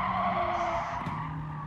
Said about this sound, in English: 3 laps around the Nürburgring GP circuit in an Aston Martin Vulcan